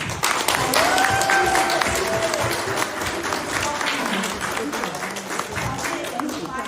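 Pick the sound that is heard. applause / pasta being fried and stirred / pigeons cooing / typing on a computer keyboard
applause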